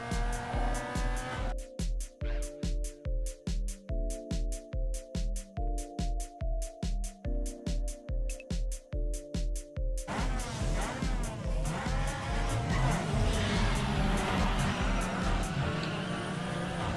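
A tuned Audi TT in the video game Need for Speed Underground 2 drives hard, its engine revving in a rapid pulsing rhythm through quick shifts, then settling into a broader roar with tire noise.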